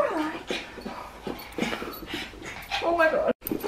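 A scared puppy whimpers and yips in short high bursts, close and fairly quiet, with soft panting between cries and a person talking over it.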